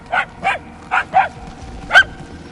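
Dogs in the Guardians of the Galaxy video game bark in five sharp, separate yaps spaced across a couple of seconds, fairly loud and clear over a faint background hum.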